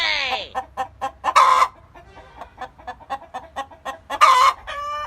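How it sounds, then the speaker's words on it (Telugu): Chicken clucking in a village, several squawks and sharp calls in an irregular rhythm with two louder bursts, close and fairly loud, with faint background noise. "ఈ కోడి ఏందిరా గిట్ల ఉంటుంది?"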